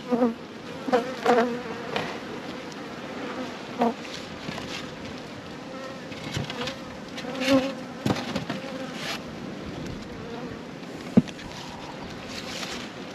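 A steady honeybee buzz hums throughout around nucleus hives being fed bakers fondant, with scattered louder knocks and bumps near the start; quiet and close, no talking.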